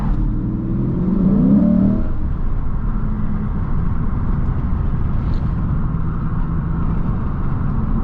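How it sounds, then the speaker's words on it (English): A 2024 Lexus IS 500 F Sport Performance with a V8 engine hums and whirs from inside the cabin while driving, with a brief rising rev early on and then a steady, loud drone. "It is impossible to replicate the feel and the sound of a V8."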